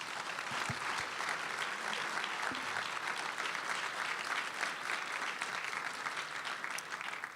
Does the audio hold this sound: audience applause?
yes